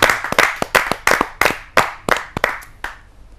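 An audience at a Hindi poetry gathering claps to welcome a woman poet from Hisar, a burst of loud, close hand claps in uneven rhythm that thins out and fades by the end.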